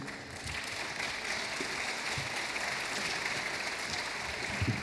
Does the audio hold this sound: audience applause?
yes